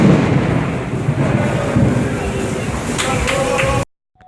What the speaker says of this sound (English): it's a tropical thunderstorm.